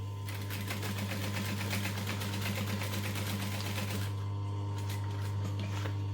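A mini sewing machine stitching fabric along a seam, a steady rapid mechanical whir with a fast needle rhythm, close and constant, slowing near the end.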